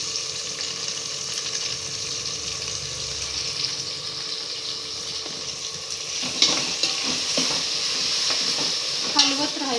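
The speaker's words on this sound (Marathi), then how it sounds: "हलवत राहायचं म्हणजे एकसारखं ब्राऊन होईल, शिजेल व्यवस्थित।" Marinated paneer sizzles steadily in a pan with tomatoes while being stirred, a continuous close frying hiss with scraping stir strokes growing more distinct toward the end.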